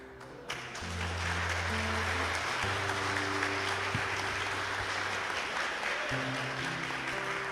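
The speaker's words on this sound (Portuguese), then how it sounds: "Você está aplaudindo porque foi bonito ou porque essa palavra entrou dentro do teu coração?" An audience in a church service applauds steadily throughout, a broad wash of clapping layered over sustained keyboard chords that shift beneath it.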